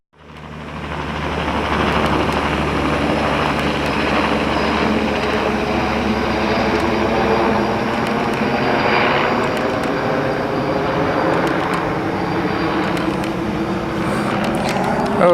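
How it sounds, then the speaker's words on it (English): A helicopter flies nearby, a steady loud rotor and engine drone that holds for the whole stretch with no talk. "look at the rotor on that helicopter"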